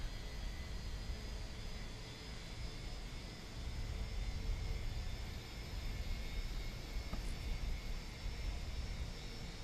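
An Airbus A321 engine spins up in Microsoft Flight Simulator, a steady broadband jet hum with a faint high whine that holds fairly quiet and even throughout, with no talk.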